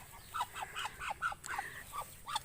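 Several ducks quack in quick succession, a run of short nasal calls at close range over a faint low hum, loud and uneven in rhythm, with no talking.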